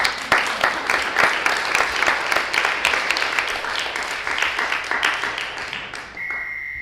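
An audience breaks into a round of applause for a volunteer, dense clapping filling the room for about six seconds before fading, followed by a steady electronic tone.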